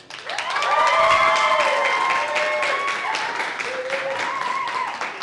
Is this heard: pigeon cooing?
no